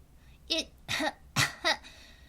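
Four harsh, rasping coughs in quick succession, close and loud, with a strained, throaty quality.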